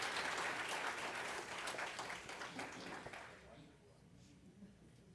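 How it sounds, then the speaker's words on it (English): A church congregation at a Sunday morning service applauds, with dense clapping at first that thins and fades away over the last seconds, voices faintly audible beneath. "Give him a round of applause there"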